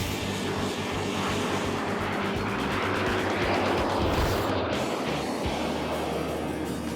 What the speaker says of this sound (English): Now it's time to take the jet flying.